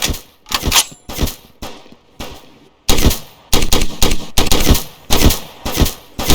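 Rapid bursts of gunfire in the police game Flashing Lights crack out loud and close, short volleys separated by brief pauses, then a denser run of repeated shots.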